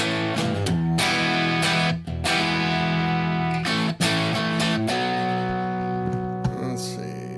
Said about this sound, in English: A little bit of cringy digi distortion.